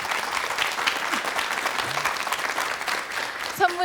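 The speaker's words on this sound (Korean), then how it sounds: "큰 박수로 감사 인사 전하겠습니다" A studio audience on a KBS morning talk show claps warmly and continuously, a full, even round of applause with a brief voice near the close.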